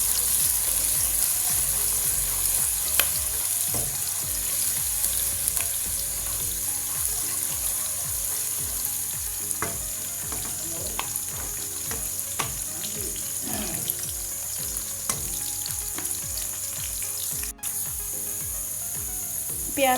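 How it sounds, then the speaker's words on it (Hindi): Onions frying in hot oil in a pan, a steady crackling sizzle that runs throughout at close range with scattered pops and a few stirring clatters, no voices. "इसमें मैं डाल देती हूँ प्याज। प्याज को कर लेते हैं हम अच्छे से फ्राई।"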